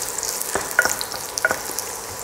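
Dried red chillies, long and round varieties, sizzle steadily in hot oil for a Chettinad curry leaf gravy, a close continuous crackle with a few sharp pops and stirring scrapes.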